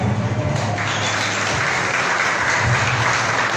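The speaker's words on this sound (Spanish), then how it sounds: "Grandes aplausos para Jenny Maribel Mía." An audience at a 2022 beauty queen election in Camasca claps together in a warm burst of applause that carries on steadily, loud and continuous, with no talking over it.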